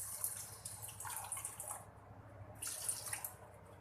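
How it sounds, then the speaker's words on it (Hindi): Water poured into 200 grams of sugar in a pan to make syrup for Karachi halwa, a close splashing pour in two short bursts with a brief pause between. "ये थोड़ा सा डालूंगी इसमें पानी।"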